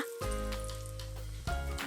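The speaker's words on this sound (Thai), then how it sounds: "จากนั้นนำไปทอดได้เลย" A kale omelette frying in a pan gives a steady, close sizzle that carries on throughout, with a tonal backing like music underneath and a brief shift near the end.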